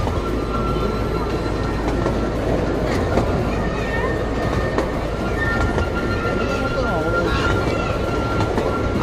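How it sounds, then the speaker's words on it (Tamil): A small tourist train rumbles past steadily with rolling wheel noise and faint squeals, close and continuous, while people talk nearby. "இங்கே வந்து சின்ன ட்ரெயின் இருக்குது அப்படின்னு சொன்னேன் இல்லையா, அந்த ட்ரெயின் தான் வந்து போயிட்டுருக்கு."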